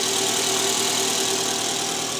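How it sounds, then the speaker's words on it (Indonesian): The 2Z engine of a Toyota Alphard idles just after a balancer shaft replacement, a steady, loud, even mechanical hum with a faint rhythmic ticking, heard up close with no talking. "Mesin baru hidup."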